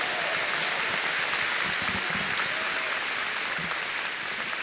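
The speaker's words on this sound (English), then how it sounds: "let's give our teachers, our administrators, everybody a big round of applause." A large graduation audience applauds in a high school setting, dense continuous clapping that stays steady and loud throughout, with no talk over it.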